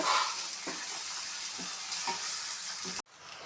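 Okra with onion and tomato frying in a pan, a steady bright sizzle with soft stirring scrapes every half second or so, continuous and close, with a brief drop near the end before the sizzle resumes.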